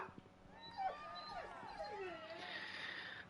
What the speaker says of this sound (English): The dogs are going to lose their minds for a moment.